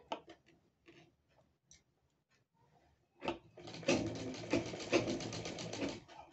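A sewing machine stitches folded satin fabric: a few scattered soft taps and clicks, then a quick rapid ticking run of stitching that starts midway and continues close and moderately loud.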